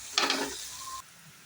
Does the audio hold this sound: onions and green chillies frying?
yes